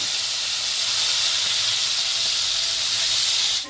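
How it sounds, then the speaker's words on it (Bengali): Small prawns sizzle in hot oil in a pan, a steady loud hiss that holds throughout before cutting off at the end. "তেল গরম হয়ে গেছে, এবার চিংড়ি মাছটা তেলে ছেড়ে দিন।"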